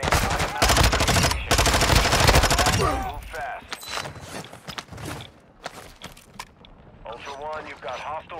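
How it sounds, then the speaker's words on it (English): Loud bursts of automatic gunfire in Call of Duty DMZ open the scene, two sustained volleys that cut off abruptly, followed by quieter scattered noises and a voice talking. "I think I hear shots."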